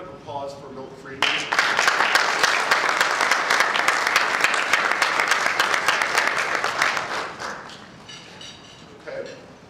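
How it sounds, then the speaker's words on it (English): An audience breaks into a brief round of applause for Milton Friedman, a burst of clapping that swells, holds for several seconds and fades, with a voice audible before and after. "Brief round of applause for Milton Friedman."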